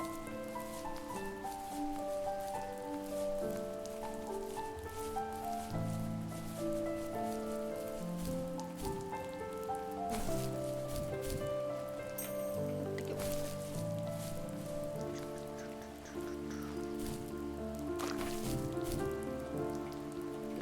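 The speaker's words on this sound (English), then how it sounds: "It's very rainy here." Steady rain patters in the video game The First Tree over a layered musical backdrop, a continuous soft hiss of drops lasting throughout.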